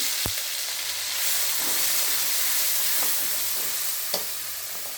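Onion paste and ginger-garlic paste frying in a pan for a yogurt soybean curry: a close, continuous sizzle with occasional sharp clinks from stirring, no voices.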